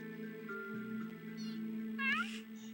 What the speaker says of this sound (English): the cats loudly playing in the room.